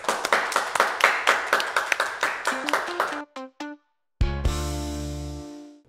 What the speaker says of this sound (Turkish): Ali'ye kocaman bir alkış alıyoruz.